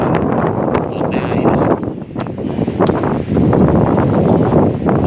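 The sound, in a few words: strong wind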